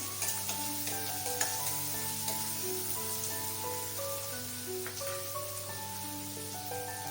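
Onion sautéing in a pan for elephant foot yam bhaji, stirred as it fries; a steady, close sizzle with soft stirring scrapes runs under continuous background music.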